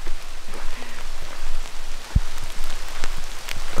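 Raindrops pattering on leaves and grass outdoors, a steady dense wash of fine taps with a few sharper, closer drops standing out, continuous throughout with no voices.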